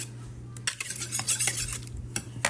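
A utensil clinks and scrapes against a bowl as white vinegar and other chicken coating ingredients are mixed, giving irregular close taps and stirring sounds with brief pauses between them.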